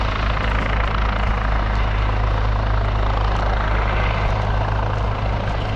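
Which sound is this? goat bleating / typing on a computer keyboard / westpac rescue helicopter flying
westpac rescue helicopter flying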